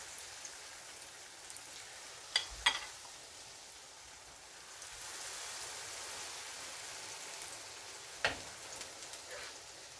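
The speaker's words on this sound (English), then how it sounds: "allow it to fry up just like we did with the first batch" Saltfish (cod fish) fritters frying in oil, a faint soft sizzle with a few sharp pops and clinks from cooking utensils.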